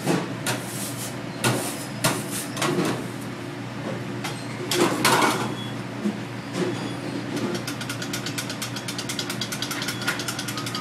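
Biscuit dough is scraped off a floured table in repeated rasping strokes, close and fairly loud, coming in an uneven rhythm of bursts.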